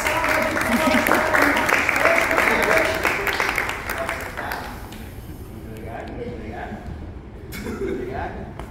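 Audience applause at a one-man stage show, a lively burst of clapping that fades after a few seconds into scattered claps, with talking over the quieter tail.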